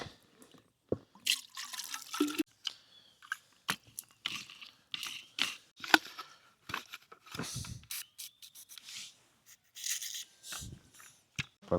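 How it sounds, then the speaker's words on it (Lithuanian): Clay for fishing groundbait being dampened with a spray bottle, heard as a string of short, close spritzes and moist crackling bursts with quiet gaps between them. "Molį mes drėkinsime purkštuvu"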